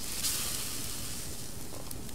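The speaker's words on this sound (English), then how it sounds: "I think I'll put the fish on the fire and get it cooked" Fish cooking over a campfire in the survival game Subsistence, a steady close sizzle with broad hiss and faint crackle running continuously throughout.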